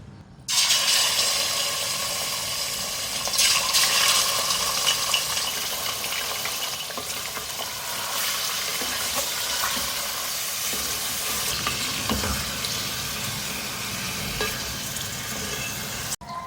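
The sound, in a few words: boneless chicken cubes frying in oil on high flame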